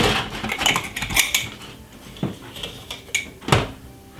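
A teaspoon fetched from a kitchen drawer while making a strawberry dessert: rapid metallic clinks and rattles of cutlery, then a few sharper isolated clanks, close and fairly loud.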